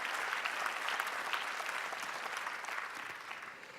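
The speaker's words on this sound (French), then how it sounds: "On vous applaudit bien fort." A dense round of audience applause fills an awards ceremony for Cit'ergie energy labels, steady and full before fading slightly toward the end.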